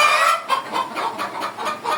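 A flock of chickens clucks steadily and close by, with a run of repeated short calls rising and falling in a continuous, busy chatter.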